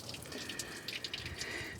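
Leftover coolant trickling and dripping out of a Mustang engine, a short close splashing of liquid with small irregular spatters.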